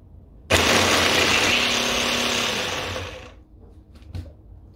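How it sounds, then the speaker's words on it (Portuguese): Garlic being ground in a small electric kitchen mixer, giving a loud, close motor whir that runs for about three seconds and then winds down, followed by a couple of faint clicks and knocks. "Gosto de triturar o alho no mix, pois eu acho que facilita bastante."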